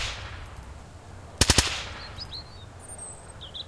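Three rapid gunshots in the survival video game Mist Survival fire in a quick burst midway through, followed by faint chirping bird calls in the quiet game ambience.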